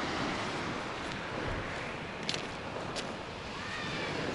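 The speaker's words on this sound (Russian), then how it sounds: "А сегодня уже море успокаивается." Sea waves wash onto a beach at Adler near Sochi the morning after a storm, a steady broad surf roar with wind, carrying on evenly with a few faint knocks.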